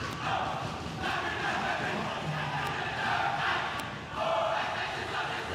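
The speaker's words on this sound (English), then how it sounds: "You can hear the crowd behind us having a good time, dancing and challenging each other" Crowd at a weightlifting competition, cheering, dancing and challenging each other, a steady diffuse roar of voices and shouts heard from behind at moderate distance, with no single voice standing out.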